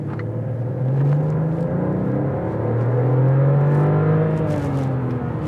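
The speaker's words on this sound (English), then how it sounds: "let's do that quick acceleration test right now" A 2021 Mercedes-Benz E 450 in comfort mode launches hard from a standstill without launch control, its engine rising in a loud, steady, smooth surge that swells and holds close by with little else heard.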